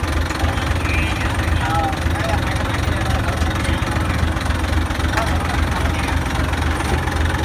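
An engine idles after repair, a steady continuous low mechanical drone with rattling vibration, running loud and unbroken throughout.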